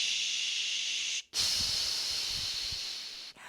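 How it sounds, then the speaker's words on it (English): A person exhales forcefully in a Pilates breathing exercise, a steady breathy hiss and blow that breaks off briefly, then resumes in a longer, louder shushing exhale that tapers away, close and alone. "I call it the 4 breath stages of the engaged exhale."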